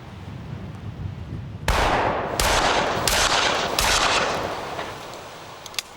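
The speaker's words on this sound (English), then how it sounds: "Last but not least in our series of tests, the shotgun." A shotgun fires at a pair of jeans in a test: after a quiet stretch, four loud, sharp blasts ring out about a second apart, each trailing off into a noisy decay.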